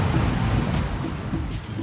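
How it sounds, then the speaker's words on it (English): Steady ocean surf washes in continuously, a broad rushing noise with soft swells and some wind buffeting, close and fairly loud with no voices. "I just love the sound of the waves, how soothing"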